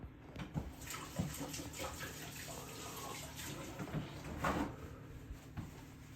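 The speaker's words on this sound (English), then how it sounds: "Let me just wash this off my hands." Hands slick with cooking oil washed under a running kitchen tap, a steady faint stream of water with splashing and rubbing, soft clunks and handling sounds scattered throughout.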